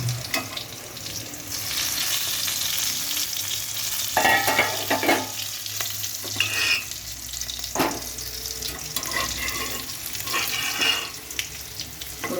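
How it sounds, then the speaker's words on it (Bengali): Five-spice seeds and green chillies crackle in hot oil with a close, steady sizzle, broken by a few sharp spits and clinks of stirring. "এতে 5 ফোড়ন আর কাঁচা লঙ্কা ফোড়ন দিলাম"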